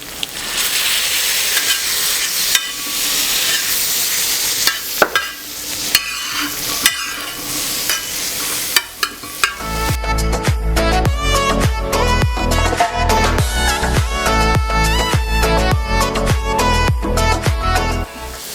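Tomatoes frying and being stirred in a pan for South Indian street-style egg kothu parotta: a steady, close sizzle at first, then busy, rhythmic scraping and clattering strokes over continuous frying, with no speech.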